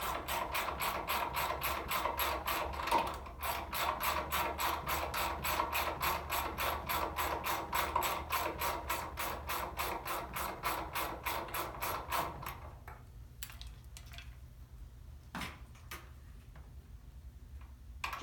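A 13 mm ratchet wrench turns a bolt on a treadmill, giving a rapid, even run of close metallic clicks for about twelve seconds, then a few scattered ticks and knocks.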